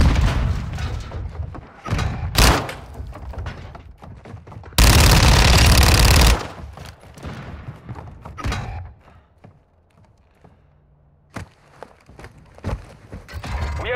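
Call of Duty: Modern Warfare II firefight with a Semtex grenade explosion: a loud, sustained blast roaring for over a second in the middle, surrounded by bursts of close gunfire and scattered shots.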